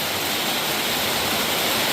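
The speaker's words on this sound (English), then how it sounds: "a bit of rain again" Steady rain falls in Phnom Penh, Cambodia, making a constant close hiss with no breaks and no voices.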